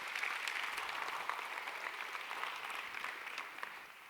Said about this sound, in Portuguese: Quem pode dar um aplauso bem forte ao Senhor?